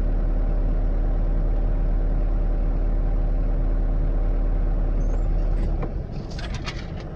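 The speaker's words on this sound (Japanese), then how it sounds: "渋滞はしてるし、ほんま。" Car engines idle in a stalled traffic jam, a steady, dense low rumble that runs continuously and eases slightly near the end, with no voices.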